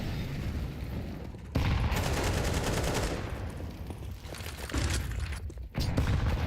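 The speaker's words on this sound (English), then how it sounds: "Typical barrage of nades to start." Grenades explode in a rapid barrage during a professional Counter-Strike match, with dense bursts of blasts and gunfire-like cracks in loud clusters that cut off and resume.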